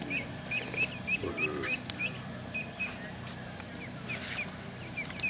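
Ducks, with a seagull and a crane nearby, are fed outdoors; repeated short, bright chirping calls repeat at a quick, irregular rhythm over a soft, busy background.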